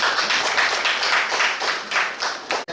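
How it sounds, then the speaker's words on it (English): Audience applause at a stakeholders media briefing in Edo State, a room of hands clapping in a steady, moderately loud patter that runs throughout before cutting off abruptly. "A round of applause for Charlie Brown."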